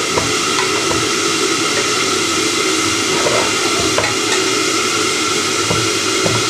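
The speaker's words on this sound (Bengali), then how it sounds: "এখন আমি ভাতটারে সবজি দিয়ে ভিজে দিচ্ছি।" Rice stir-frying with vegetables in a pan, a loud constant hiss and sizzle running throughout, with a few faint scrapes and clicks of a utensil in the mix and no one speaking.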